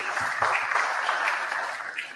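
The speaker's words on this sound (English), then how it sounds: "I would like to give them a big round of applause for stellar work" Audience at an academic valedictory session applauds steadily, a dense wash of many hands clapping at moderate volume through the whole stretch, with no voices over it.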